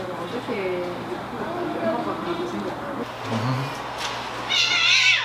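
A tame cat that was abandoned by its owners meows a few times, mid-distance, mixed into a steady background of people talking nearby, with a sharper cry near the end.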